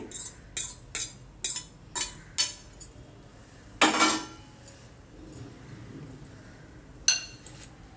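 A utensil clinks against a bowl in a quick run of sharp taps, then a few more scattered knocks, as ingredients for a high-protein breakfast are mixed.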